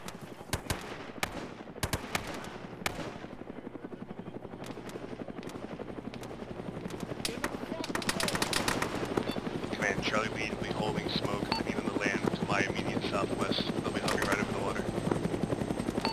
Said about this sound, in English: we got choppers coming into the top of the hill